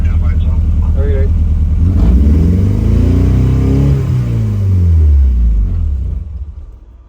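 Mazda Miata engine revving hard during tuning, a loud rumbling run that climbs and falls in pitch over several seconds before fading away at the end, with voices faintly underneath.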